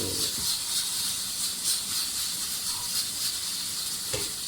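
A steady, loud hiss of steam escaping continuously from a pressure cooker cooking chana dal, with a couple of soft clicks and clatters underneath.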